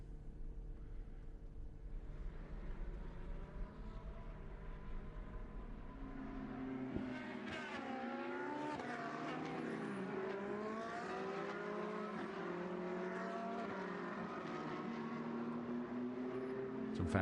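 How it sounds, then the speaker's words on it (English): Ferrari Challenge race cars circulating at the Monza circuit, engines droning at a distance with rising and falling pitch as cars pass, a steady blended roar under no speech. "it's Chuadrogo, Carver and Christian Hobohm, making up the full 21 cars that are out on track for this race."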